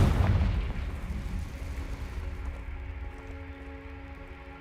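A Confringo explosive spell bursts in the video game Hogwarts Legacy with a heavy deep boom at the start that rumbles and fades out over several seconds, leaving a low hum behind.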